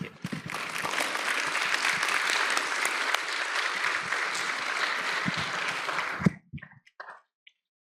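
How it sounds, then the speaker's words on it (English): Lecture-hall audience applauding after a Nobel laureate's talk: a full, sustained round of many hands clapping that cuts off abruptly near the end, followed by a few scattered claps and quiet. "let's give another round of applause to Sir Paulus"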